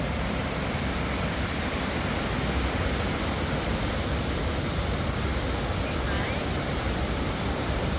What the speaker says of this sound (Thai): ท่ามกลางน้ำตกนะครับ